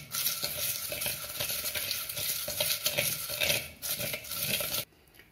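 Hot gongura greens pounded with chillies and salt in a pot, giving a steady stream of close, scraping and clattering stirring noises with a sizzling wash underneath, ending abruptly in near silence.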